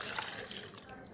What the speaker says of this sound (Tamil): இதில் தண்ணி ஊற்றி ஊற வச்சிடலாம்